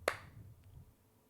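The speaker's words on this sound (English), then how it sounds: "That was a surprise clap for you guys." A single sharp hand clap, loud and close, cracks once near the start and then fades into a quiet room with faint low background noise.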